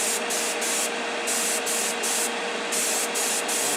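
An airbrush sprays heavy coats of enamel paint thinned with lacquer thinner onto a 1965 Impala model car, hissing close and steady in a run of short repeated bursts with brief breaks between passes.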